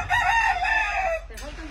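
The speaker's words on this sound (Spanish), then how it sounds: "Ya nos cantó el gallo." Rooster crowing close by in an outdoor rural kitchen setting, one loud drawn-out cock-a-doodle-doo call with a brief trailing cluck.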